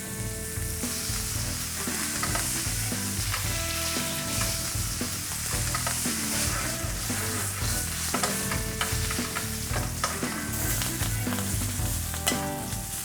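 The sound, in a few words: steak searing in pan with butter, basting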